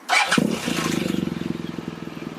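BMW R1200GS motorcycle engine cranking and catching, then settling into a steady, close pulsing idle that runs throughout.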